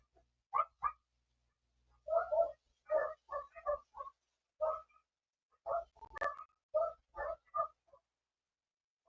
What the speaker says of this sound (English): I don't know if they're barking at deer.